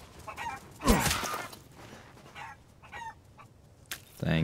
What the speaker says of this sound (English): These are the chickens that we were looking for before.